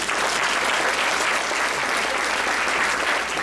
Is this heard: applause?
yes